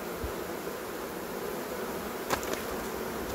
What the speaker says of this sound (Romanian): Albinele se trag în cuib și va ierna foarte bine pe 5 rame.